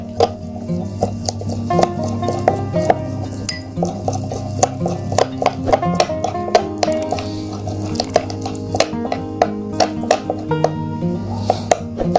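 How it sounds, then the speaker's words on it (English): A spoon mixing ingredients into a cream paste gives repeated clicks and scrapes against the bowl, steady and close throughout over a continuous tonal background. "now mix the ingredients very well together like so"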